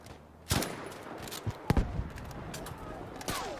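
BREN light machine gun firing in Battlefield 5, a few sharp bursts and single cracks spaced irregularly over distant battle noise, moderately loud against a low background rumble.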